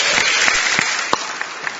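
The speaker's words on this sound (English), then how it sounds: "Let's give them a big round of applause for bringing a friend" Brief, steady applause from a church congregation at a children's worship service, a dense wash of clapping with a few sharper claps standing out.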